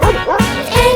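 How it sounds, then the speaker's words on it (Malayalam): A cartoon dog gives a few short, punchy barks and yips in a Malayalam version of the Bingo nursery rhyme for children. The barks are close and loud over the song's backing. "ഒരു നായ ഉണ്ടായിരുന്നു കർഷകന്, പേര് അതിന്റെ ബിങ്കോ."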